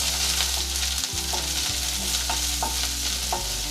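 Onions frying in a pan for pepper chicken fry, a loud continuous sizzle with repeated spatula stirring strokes scraping the pan, close and without talk.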